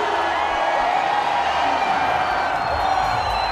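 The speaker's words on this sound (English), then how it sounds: "Applause all around." A packed cricket stadium crowd in Pindi roars and applauds a batsman's record-fast century in a Pakistan Super League match, a dense, sustained wash of cheering and whoops with a commentator's voice faintly under it.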